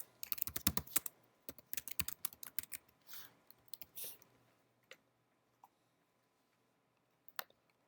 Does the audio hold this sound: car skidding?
no